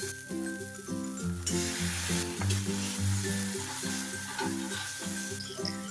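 Tomatoes and capsicum with chili powder and soy sauce fry in a pan on slow to medium flame, a soft continuous sizzle with occasional stirring clinks beneath background music.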